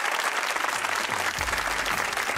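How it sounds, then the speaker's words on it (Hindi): Studio audience applauding on a Pakistani comedy talk show, a dense steady wash of clapping filling the whole short stretch without speech. "बहुत अच्छी ऑडियंस थी अपने लिए, तालियां बजाइए।"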